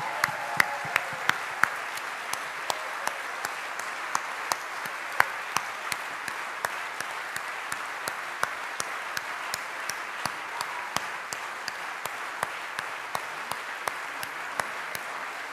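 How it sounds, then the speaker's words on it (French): A hall full of people applauds for the party's national secretary, with dense, sustained clapping and steady sharp individual claps standing out throughout. "Et un tonnerre d'applaudissements pour notre secrétaire nationale"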